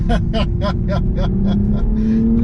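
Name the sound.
Toyota Supra 3-liter six-cylinder engine revving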